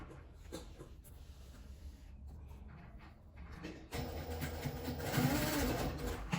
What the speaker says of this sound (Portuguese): vou dar um pontinho na máquina, aqui na parte de cima